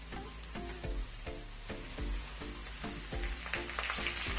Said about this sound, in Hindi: अब मैं इसमें 1/2 kg बीफ डाल रही हूँ।